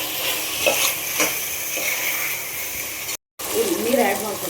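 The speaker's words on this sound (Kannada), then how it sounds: "ತರಕಾರಿ ಆ್ಯಡ್ ಮಾಡ್ಕೊಳ್ಳೋಣ." Vegetables go into a hot pan for green pallav and sizzle loudly, with repeated stirring scrapes across the spread and a brief dropout near the end.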